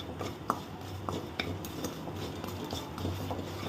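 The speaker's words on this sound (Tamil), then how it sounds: "இப்போ இதை நல்லா மிக்ஸ் பண்ணிடலாம்." A spoon stirs spice powder through tamarind rice in a pan, making soft, quiet scrapes and light ticks in an uneven rhythm against a faint steady background, with no voices.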